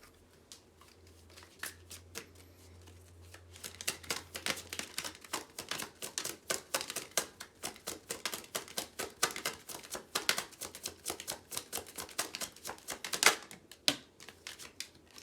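Tarot cards shuffled and handled close up, a dense run of quick crisp riffs and slaps that starts after a few quiet seconds and continues to the end, with no talking.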